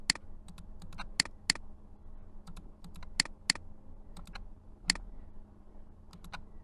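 Keyboard typing of AutoCAD commands during a mechanical drawing session, with scattered sharp key clicks in small bursts and single taps over a quiet room background, no talking.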